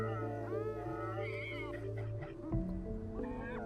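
A cat meows in the Stray video game teaser trailer, a couple of short rising cries over a low musical drone, with a voice briefly audible beneath.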